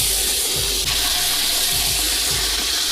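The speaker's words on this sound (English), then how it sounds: "Brown all of this beef" Ground beef browns in a giant pan for Midwest-style chili, giving a dense, continuous loud sizzle that holds steady throughout with faint low thumps from the pan.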